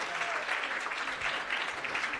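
A crowd at a speaking event claps steadily and energetically throughout, a dense continuous wash of applause with no pauses.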